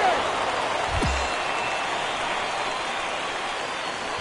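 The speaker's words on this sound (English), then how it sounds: "And Dan, when it comes to pitching in the rain, what changes?" Steady rain falls throughout a baseball video game broadcast, a dense even hiss that stays level from start to finish, with a brief low thump near the beginning.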